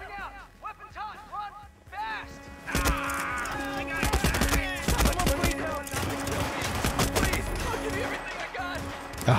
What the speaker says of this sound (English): Oh god, stop shooting me.